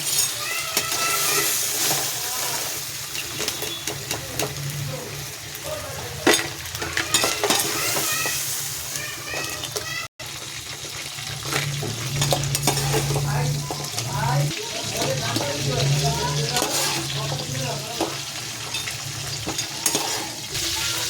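Crab fries in a pan with a constant close sizzle, broken by repeated scraping and stirring strokes of a spatula against the metal.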